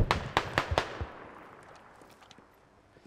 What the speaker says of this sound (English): Hey, you're shooting smokes.